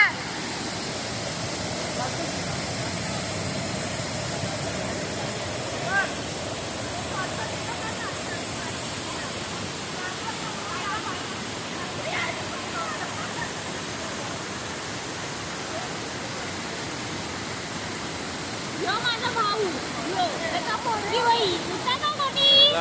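The Savdav waterfall in the Konkan region gives a steady rushing roar of falling water throughout. Faint voices come and go under it, and a few livelier splashes sound near the end.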